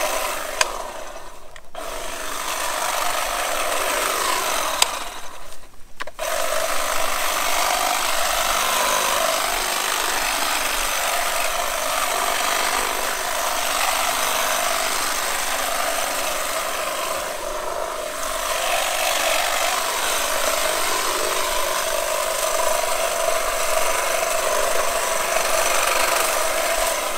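A hedge trimmer used as a makeshift sickle-bar weed mower cuts through weeds, giving a steady, loud buzzing drone that runs almost continuously, broken by two brief pauses near the start.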